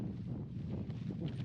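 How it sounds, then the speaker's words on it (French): Steady headwind buffeting the microphone while running against it outdoors on a Japanese mountain, a continuous low rumbling roar with gusty fluctuations and no voices. "on court contre le vent"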